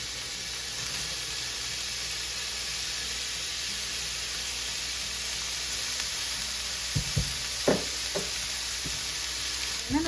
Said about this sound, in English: I'm just gonna saute off my last batch here. And I put in my onions.